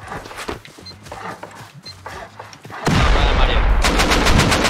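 Gunfire in the survival game Rust during a raid on neighbors: scattered shots under game noise, then a loud, sustained automatic burst that runs continuously for the last couple of seconds.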